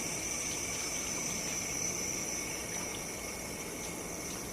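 Steady running water from a tap pours continuously, a close, even hiss with faint clinks, no voices.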